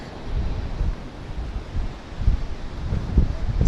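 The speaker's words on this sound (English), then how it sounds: "as it is windy" Steady wind blows outdoors along a city avenue in Toronto, a loud continuous low rumble of gusts buffeting the microphone, swelling slightly toward the end with no clear talking.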